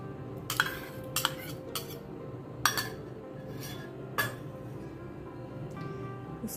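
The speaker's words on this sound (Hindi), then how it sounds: "ऐड कर रही हूँ दही।" Curd is spooned into semolina in a bowl, with a handful of crisp metal spoon clinks against the bowl spaced a second or so apart over a quiet kitchen background.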